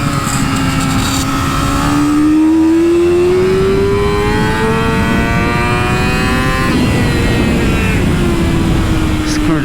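On a race track, a 2018 Yamaha YZF-R6 engine shrieks loud and close, pitch rising through a long rev, dipping briefly at a shift, then climbing again before easing off near the end.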